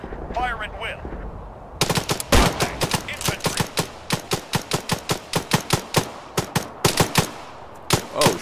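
Rifle and automatic gunfire in Arma 3, loud close bursts and single shots in a rapid, uneven rhythm lasting several seconds, with a brief quieter stretch at the start.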